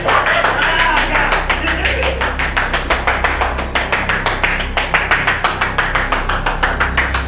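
Inside the haunted Waverly Hills Sanatorium at night, hands clap rapidly in a steady, even rhythm, dozens of close, sharp claps over a constant low rumble.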